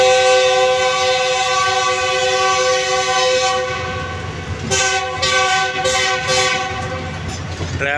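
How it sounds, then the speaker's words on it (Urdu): A GE20 locomotive hauling the Jaffar Express between Okara and Lahore sounds its horn in long, loud, repeated blasts over the rumble and clatter of the moving train, heard up close. "ڈرائیور صاحب ہارن پہ ہارن لگا رہے ہیں جی."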